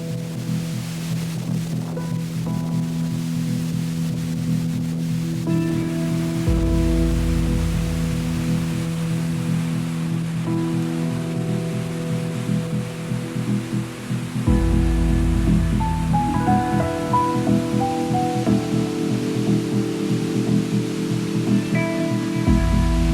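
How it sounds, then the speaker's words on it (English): A steady, broad rush of falling water from a waterfall in the Chilliwack valley, throwing off heavy spray, fills the whole stretch, loud and unbroken, with a low tonal hum layered over it. "A lot of spray coming off this waterfall here."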